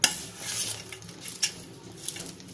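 Moong dal kosambari being mixed with a tempering, a short run of soft spoon clinks and scrapes against a bowl, close by with a faint wet patter.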